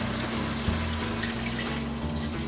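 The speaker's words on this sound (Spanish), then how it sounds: "vamos a agregar el agua." Water is poured into a pan of cooked chicken for Japanese chicken curry, giving a steady, loud rushing splash that runs the whole time with a low hum underneath.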